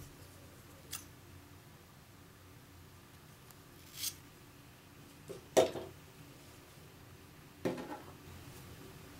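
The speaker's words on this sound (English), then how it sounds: "So I will just cut the yarn and secure it." Scissors snip through knitting yarn after a scarf is finished, several soft, brief cuts spaced a few seconds apart over quiet room noise, with a couple of faint handling rubs in between.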